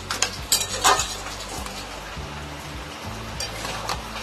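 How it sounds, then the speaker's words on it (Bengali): Fried onions (beresta) stirred into a Bengali-style spicy crab curry in a pan, a spoon scraping and clinking against the metal in uneven bursts over a faint sizzle. "বেরেস্তাটা ভালো করে মিশিয়ে দেব।"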